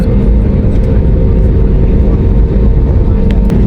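Heard from inside the cabin, an airliner taxis toward the runway on departure from Tamil Nadu, India, with a loud, steady engine rumble throughout and faint voices beneath it.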